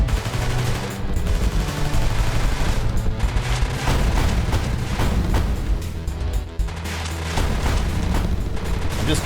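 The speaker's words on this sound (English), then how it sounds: "shooting tons of missiles and hoping for the best" Missiles firing and exploding in the aerial combat video game MF-01 Aerostrike, a loud dense barrage of rapid blasts and booms layered over a rumbling low drone, continuous with sharp bursts throughout.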